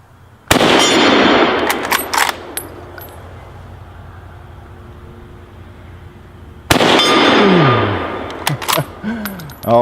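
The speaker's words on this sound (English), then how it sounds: "Oh, it shoots just fine with the bayonet or without it." Mauser K98k rifle fired with its bayonet fitted, two loud sharp gunshots several seconds apart, each followed by a long outdoor echo and metallic clatter.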